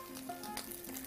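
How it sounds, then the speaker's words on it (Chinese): Shiitake mushroom caps stuffed with shrimp paste fry paste-side down in a pan, giving a quiet, steady sizzle with no talking. "咱们煎这个香菇呢，一定要先把带虾胶的这一面呢给它煎"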